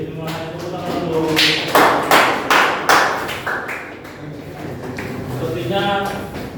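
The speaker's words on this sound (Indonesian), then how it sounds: "Tepuk tangan dulu" Classroom group gathered after a presentation breaks into a short burst of applause, a few loud claps at first, then a denser patter from many hands that fades as voices carry on talking over it.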